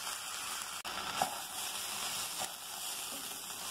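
Something frying in a pan for egg khichuri gives a soft, even sizzle that continues throughout, broken by a couple of faint clicks and scrapes. It stays quiet and close, with no one speaking.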